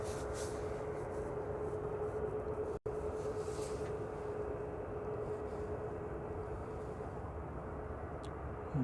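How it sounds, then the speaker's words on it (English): A Eurowings Airbus A320-200 airliner arriving at Manchester Airport gives a steady, distant jet roar with a faint steady whine, even in level throughout. "Next in is Eurowings, coming in from Dusseldorf, E320-200"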